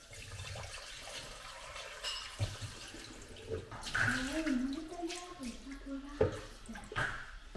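A Bosch dishwasher with an E-24 drain fault filling with water: a rushing, splashing inflow that swells and gurgles at close range, with small drips and clunks along the way.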